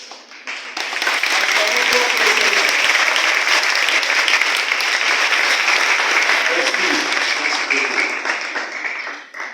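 A congregation at an Easter Mass breaking into loud, sustained applause with cheering, the clapping swelling quickly and holding steady for several seconds before tapering off.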